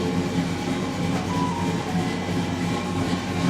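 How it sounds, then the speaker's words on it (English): A 1958 car engine runs in the background of a custom and hot rod shop, giving a steady, continuous rumble with no pauses throughout. "You can hear in the background my own 58 running."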